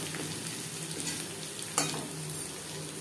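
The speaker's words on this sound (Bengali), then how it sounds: "ভেজে নেওয়ার পর দিয়ে দেবো রসুন। এই সময় আমি গ্যাসের ফ্লেমটাকে লোতে রেখেছি।" Garlic frying in oil over a low gas flame, a steady soft sizzle with a single brief clatter partway through, no voices.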